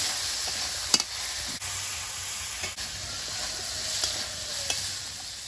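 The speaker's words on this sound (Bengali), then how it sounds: "ওই তেলে এবার আলুটা ভেজে নেব।" Potatoes fry in hot oil in a pan, a continuous close sizzle with occasional scraping stirs of a spatula, heard alone without talking.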